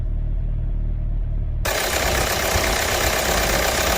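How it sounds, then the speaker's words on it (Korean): A 2009 Kia Sorento R CRDI diesel engine idles with a close, low, knocking rumble. Partway through, the sound abruptly becomes much louder and harsher, with a broad roaring clatter that holds steady to the end and no voices. "CRDI 엔진의 특유의 아주 좋은 소리를 갖고 있어요."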